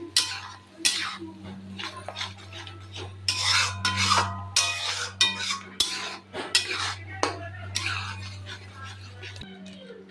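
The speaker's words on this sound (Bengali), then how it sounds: "ফ্লেমটা বাড়িয়ে আমি একটু নাড়া দিয়ে নিই, এটা একটু কষবে।" A spoon scrapes and stirs paneer masala with tomato paste in a pan over a raised flame, giving repeated clinking and rasping strokes close by over a steady low hum, with a voice speaking at times.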